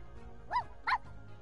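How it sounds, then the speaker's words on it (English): Dalmatian puppy in The Sims 4 lets out two short, close yapping barks about a third of a second apart over soft game music. "Yeah, puppy Dalmatian."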